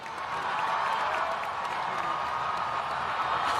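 Huge crowd gathered outside Buckingham Palace, a broad steady roar of cheering voices with faint applause and whoops, continuous and distant-sounding throughout.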